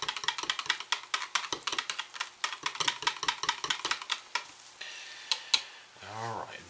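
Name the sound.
stirring soap batter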